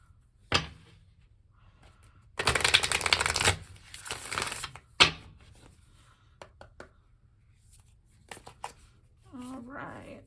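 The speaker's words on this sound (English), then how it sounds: "I'm going to do one more shuffle and then I'm just going to go ahead and cut." Bursts of tarot cards being riffled and shuffled, two loud flurries with taps and handling noises between, fairly close, with a short voice near the end.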